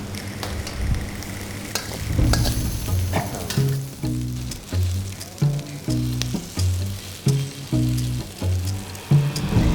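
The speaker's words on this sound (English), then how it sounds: "Frying on top." Drunken noodles (pad kee mao) fry in a wok, a close sizzle broken by a steady rhythm of metallic scrapes and tosses from the stirring, with no talk.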